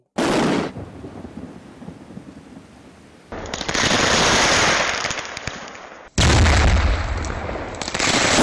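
Fireworks stock at a shop where pyrotechnics were stored and sold goes off in loud, booming blasts, with several heavy detonations and crackling roars following each other, no speech.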